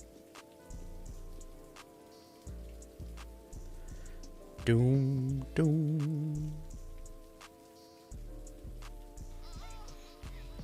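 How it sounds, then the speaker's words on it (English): Steady rain patters on a surface in an animated scene, soft and continuous throughout, while a voice briefly chants a couple of low syllables over it and music swells midway. "Talk about perfect timing for the rain."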